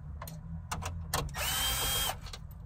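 An electric drill whirs in a short, loud burst of under a second, surrounded by clicks and clatter of handling.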